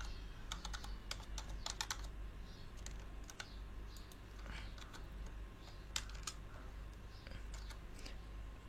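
Someone types the word birthday on a computer keyboard while making a birthday poster: soft, close, irregular key clicks in small clusters over a quiet room hum.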